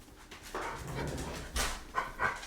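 A dog pants close by in quick, breathy bursts, with faint whimpering sounds mixed in and no talking.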